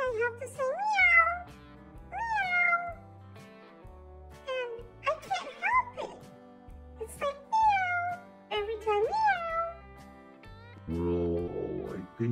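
A voice imitates a cat's meow again and again, each a rising and falling whine repeated in quick, uneven bursts over a steady low accompaniment, close and fairly loud.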